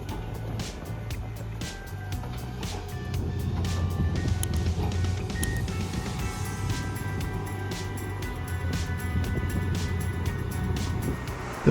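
A Peterson 4700B wood grinder from 2007 crushes large trees with a steady heavy mechanical roar and rumble, rising louder partway through, with repeated knocking and cracking impacts.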